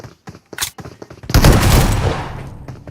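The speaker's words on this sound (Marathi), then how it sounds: "अरे मी पहिली गोळी मारली" Video game gunfire in a 1v2 Wow Mode match: a few sharp separate shots, then a loud, sustained burst of rapid fire that rattles on and slowly fades, with no talking.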